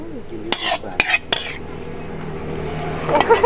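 A metal utensil stirs spleen curry in a huge wok larger than a person: a few sharp clanks and scrapes, then quieter steady stirring over a low background hum.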